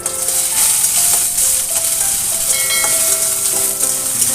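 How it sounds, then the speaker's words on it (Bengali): Whole mustard seeds sputter and sizzle in hot oil in a home kitchen while pumpkin is being cooked, a steady crackling hiss with faint tonal sounds running beneath it. "এবার সরিষাটা চিটচিট করে ফুটতে শুরু করলে তারপর দিয়ে দিব আদা কুচি।"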